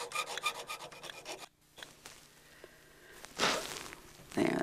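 Hand filing of metal for a champleve enamel piece gives a run of quick rasping strokes, then a pause and scattered small sounds, before short bursts of filing come back, fairly quiet and close.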